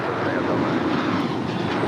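Airliner engines roaring on the runway at LAX during takeoff, a broad loud rumble and whoosh sustained throughout at moderate distance.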